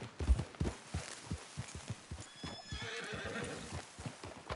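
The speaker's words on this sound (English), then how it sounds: "That's a nice horse." A horse in the Red Dead Redemption 2 video game whinnies and snorts close by, with clip-clop hoofbeats throughout, loudest early on and softening over a few seconds.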